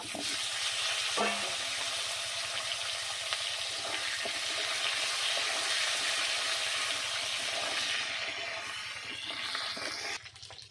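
Potatoes frying in oil left from frying pabda fish, a continuous close hiss and crackle with light stirring, holding steady for about ten seconds before cutting off.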